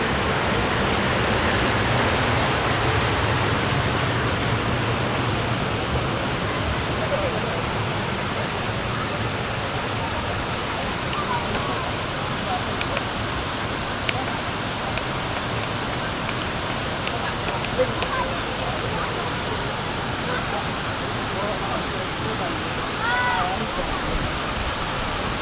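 The Tirto Galuh waterfall in Blitar sends out a steady, broad rush of falling water. The roar holds at an even loudness through the whole stretch, with faint voices now and then beneath it.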